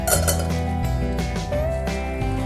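A metal lid settles onto a cooking pot of flat bean (avarekai) palya with a bright clink and a lingering metallic ring, followed by a few lighter clinks, close and clear with no voices.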